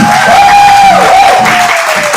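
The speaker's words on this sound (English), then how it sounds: "All right, give yourself a round of applause." A live audience claps together for the whole stretch, loud and close, with a thin whistle-like tone riding above the steady patter.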